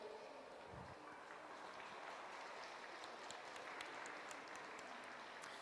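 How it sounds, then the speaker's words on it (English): Audience applause at a dog show during the toy and hound groups and best in show judging, a steady, even round of clapping that holds at a fairly faint level from start to finish. "a particular warm round of applause, please, for our show manager, David Williams, who puts it all together."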